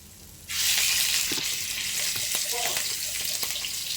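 Shrimp hitting hot oil and stir-frying for Thai basil shrimp stir-fry, a loud steady sizzle that bursts in and holds throughout, with faint spatula scrapes and small knocks beneath it.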